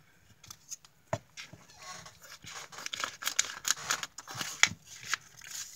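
Scissors snipping through vellum paper up close, a run of quick crisp cuts in irregular bursts that grow busier and louder toward the end.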